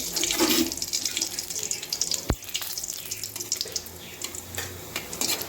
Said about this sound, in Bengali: আমি ফোড়নে দিয়ে দিলাম রাঁধুনি সস, শুকনো লঙ্কা, আর দিলাম কালো জিরে